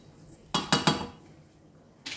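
Ingredients for fluffy, soft pancakes being mixed in a bowl, heard as three quick clinking utensil strikes against the dish close up, then a pause and a fourth knock at the end.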